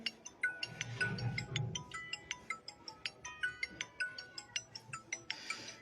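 A phone ringtone from repeated incoming calls during a protest announcement about surrounding the Hardoi district magistrate's office, playing as a steady, bright electronic melody of short repeating tones at moderate volume.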